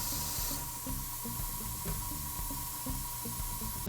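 An airbrush sprays a custom paint coat onto a Gunpla MG Strike Rouge Gundam model, giving a continuous close hiss over a faint mechanical ticking and a thin steady whine.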